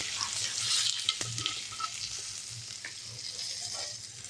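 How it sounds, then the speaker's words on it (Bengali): Bay leaves dropped into hot oil in a wok for a Bengali okra-and-yogurt dish, crackling and sizzling up close with a few sharp pops and light stirring scrapes. "এবার আমি কড়াইয়ে দিচ্ছি কতগুলো তেজপাতা"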